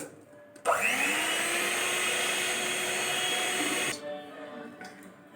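An electric mixer beats cake batter after oil is poured in. It starts abruptly with a loud, steady whirring drone that holds for about three seconds, then cuts off, leaving quieter rattling and kitchen sounds.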